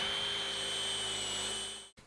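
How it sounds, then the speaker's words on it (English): A power drill bores a pocket hole through a pocket hole jig fitted with dust extraction, a steady high whine with a sustained tonal hum, loud and close, that holds for about two seconds and then cuts off abruptly. "And now I can go ahead and drill my pocket."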